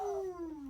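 A short, falling howl, close and fairly faint, lasting under a second and sounding alone, with no talk over it.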